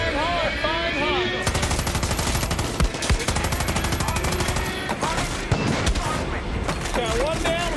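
Gunfire in Far Cry 6, a loud rapid burst of automatic shots running almost nonstop with a few heavier booms, while someone shouts and talks over it.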